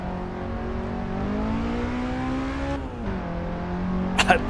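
A Toyota Sera TRD climbs Pikes Peak in Assetto Corsa, its engine droning loud and close with pitch rising and dipping through gear changes, ending in a short burst of tire noise.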